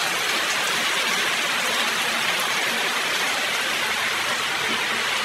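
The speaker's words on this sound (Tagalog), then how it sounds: "Ay, maulan." Rain falls steadily outdoors near a tomato garden, a constant broadband hiss of even loudness throughout, with no voices.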